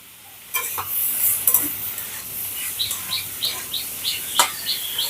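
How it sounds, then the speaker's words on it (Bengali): Food sizzles steadily in a hot pan while a utensil scrapes and stirs in quick, regular strokes, close by with no talking. "খুব ভালো করে নেড়ে নেড়ে পেঁয়াজটাকে খুব ভালো করে ভেজে নিতে হবে"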